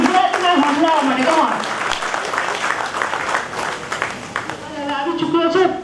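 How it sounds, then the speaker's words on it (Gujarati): Dense applause from an audience at a speech event fills the whole stretch, a steady wash of clapping running beneath a voice addressing the crowd. "જામનગરની જનતા પર જોરદાર તાળીઓ થવી જોઈએ"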